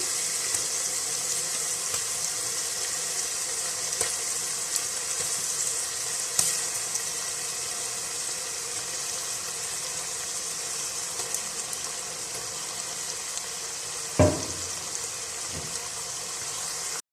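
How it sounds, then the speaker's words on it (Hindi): Koftas lowered one by one into a pan of well-fried masala with the oil separated, giving a steady broad sizzle with a sharper crackle burst near the end; no one speaks. "अब मैं एक एक करके कोफ्ते डालती जाऊंगी।"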